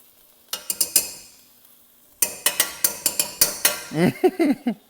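A spatula stirs minced garlic into softened onions and vegetables in a pan, giving a run of sharp clinks and scrapes against the metal, close and clear, after a brief pause.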